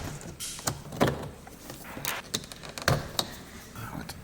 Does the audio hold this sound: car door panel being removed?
yes